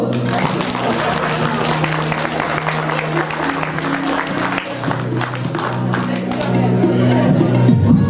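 Sustained applause from an audience at a drama performance, a thick wash of clapping that carries through with a steady hum beneath it and swells a little louder near the end.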